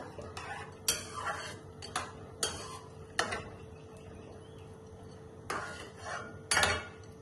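Prawn rice being stirred with water in a pot, with a utensil scraping and knocking against the pot in several separate bursts and quiet pauses between them.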